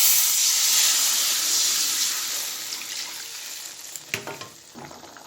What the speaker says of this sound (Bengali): এবার ঝোল দিয়ে দেব।